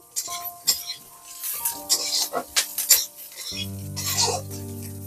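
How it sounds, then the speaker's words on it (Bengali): Cashew nuts being stirred in a hot kadai for reshmi chicken, with bright metal clinks and scraping strokes in uneven bursts, close and fairly loud, followed by a sustained sizzle near the end. "কাজু বাদামটাও দিয়ে একটু নাড়াচাড়া করে নেব এক মিনিট সময় ধরে"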